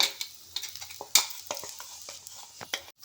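Stuffed bitter gourds frying in a pan with spice powder sprinkled over them, giving a soft, steady sizzle broken by scattered taps and scrapes of a spoon stirring close by.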